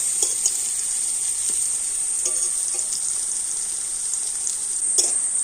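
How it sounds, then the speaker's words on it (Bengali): Steady sizzle of vegetables frying in mustard oil runs throughout, with a few soft clicks and scrapes as pieces are turned in the pan. "এবার আমি এইগুলোকে তেলের মধ্যে একটু উল্টে পাল্টে খুব সুন্দর করে ভেজে নেব"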